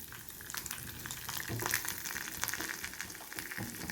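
Urad dal frying in oil for a coriander coconut chutney tempering, a busy crackling sizzle with scattered pops and light stirring, close and unaccompanied by speech.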